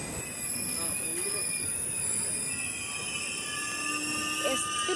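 Bhavnagar–Trivandrum Express hauled by a WP7 locomotive, with sustained loud metallic wheel squeal and steady rolling rumble throughout, heard close and continuous with no talk.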